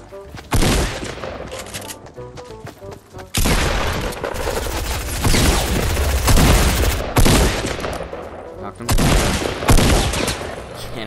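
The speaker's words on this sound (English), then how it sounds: "I'm getting shot from behind me." Gunfire in Fortnite: loud, dense bursts of rapid shots in several long volleys separated by brief pauses, close and heavy, with booming impacts mixed in.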